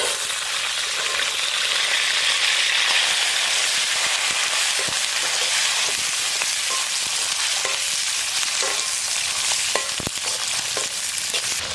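Onions hiss and sizzle in an oil pan for Chettinad chicken gravy, loud and close, with a continuous fry broken by scattered sharp pops and a few stirring scrapes, no talking.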